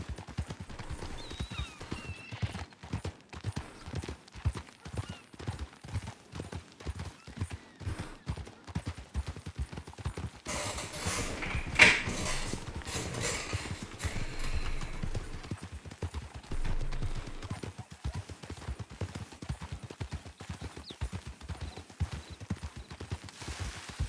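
Horse hooves clip-clopping steadily in the western roleplay game RedM, a continuous rhythmic trot that runs through the whole stretch at a moderate, fairly quiet level.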